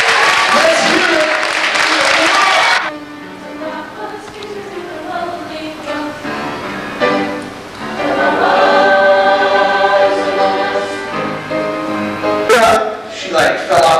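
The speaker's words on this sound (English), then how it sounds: "So, lots of applause." Audience applause at a show, a loud burst of clapping for the first few seconds that gives way to singing and music, then a brief sharp return of clapping near the end.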